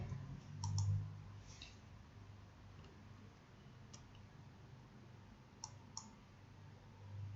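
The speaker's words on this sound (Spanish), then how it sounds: "hago un clic en ninguno" Computer mouse clicks during a software lesson on applying text effects, a few sharp, quiet clicks spaced apart over a soft background hum.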